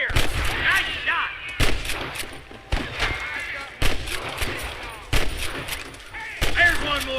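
Gunfire in the Red Dead Redemption video game, a series of loud sharp shots at irregular intervals with booming echoes, mixed with shouted voices and game sounds.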